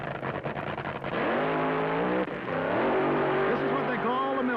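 A 1974 NHRA U.S. Nationals drag racer, Mike Miller's Green Elephant, making a solo run: a loud, roaring engine that climbs steadily in pitch, shifts, then keeps rising, heard at a distance with crowd ambience and a commentator's voice faintly over it.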